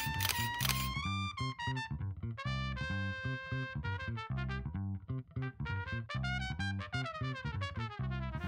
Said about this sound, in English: taking low-speed continuous shots, that's 3 shots or frames per second